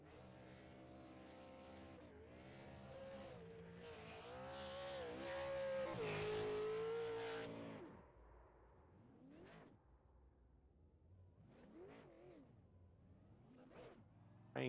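Race cars in iRacing at Seekonk Speedway doing victory burnouts: a loud, sustained engine roar with screeching tires for about eight seconds, then quieter idling broken by several sharp revving blips.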